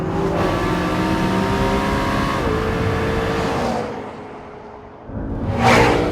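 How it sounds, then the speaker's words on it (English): McLaren 650S sports car braking hard, its engine note holding steady and then dropping away as it slows, followed by a short whooshing rush of air and tires near the end. "The McLaren stops really well and wanders just a little bit in the process."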